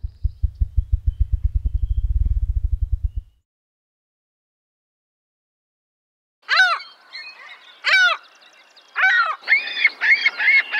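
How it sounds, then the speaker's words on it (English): Ruffed grouse drumming opens as a low, rapid series of thumps that speed up and end, followed after a pause by loud, harsh, repeated distress screams in close, separate bursts. "rhythmic thumping, and distressed screams of the ruffed grouse."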